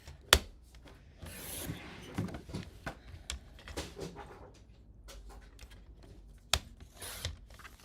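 Paper cut on a paper trimmer for a card: sharp mechanical clacks at the start and again later, with quieter sliding and rustling sounds between, close and fairly soft.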